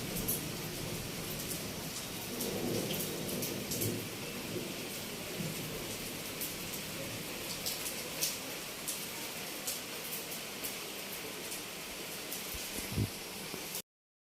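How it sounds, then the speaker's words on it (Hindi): Steady rain hisses throughout during a stormy monsoon spell, with low thunder rumbling faintly in the background and a few louder drop impacts close by. "और देखो बादल कैसे गरज रहा है।"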